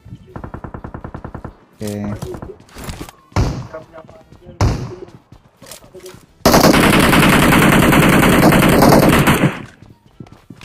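Automatic gunfire aimed at a bot in PUBG Mobile: a rapid rhythmic burst, scattered single shots, then a long loud continuous volley, with players talking in between.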